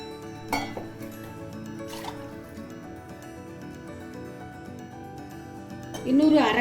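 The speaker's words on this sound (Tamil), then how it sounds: "இந்த தேங்காய் பாலை இதில் சேர்த்துக்கலாம்." Coconut milk pours into a pot of kodo millet pulao in a kitchen, a short liquid gush near the end over steady background music.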